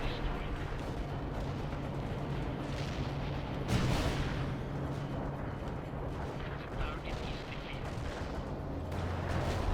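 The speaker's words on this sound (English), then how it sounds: "there's artillery and bombs being dropped off on the battlefield" Distant artillery fire and bomb blasts roll across a battlefield in the war game World in Conflict, forming a dense, continuous rumble with one stronger burst near the middle.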